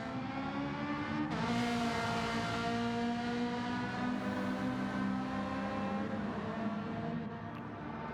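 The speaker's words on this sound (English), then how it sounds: "We've got cars all moving around the track at the minute." Several race cars in a racing video game circle the track on the final laps of a 22-lap race, their engines droning steadily with overlapping harmonic whines that hold loud and continuous throughout.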